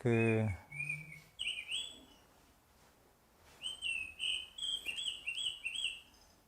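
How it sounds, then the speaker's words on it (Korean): Birds chirp and whistle in bright, repeated short phrases, at moderate volume in a quiet setting, with a low hum underneath and a brief tonal sound at the start. "이번 달에는 이제 이게 새소리가 바뀌었죠, 그죠?"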